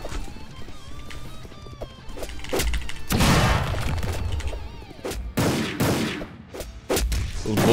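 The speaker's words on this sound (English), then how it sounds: "Those bullet punches loud." Loud, punchy bullet-punch impact bursts strike repeatedly over a busy Roblox anime fighting game soundscape, several sharp heavy hits landing in quick succession.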